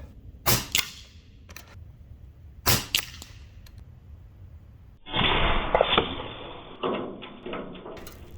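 An Avenge-X Tactical Carbine PCP air rifle fires two sharp, snappy shots about two seconds apart. A brighter hissing burst with clicks follows later.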